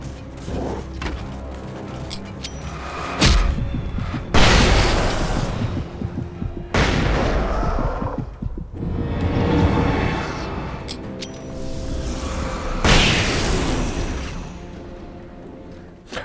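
Flashbang explosions in the video game Alan Wake Remastered, several loud booming blasts that rumble and decay, spaced a few seconds apart over ongoing game ambience.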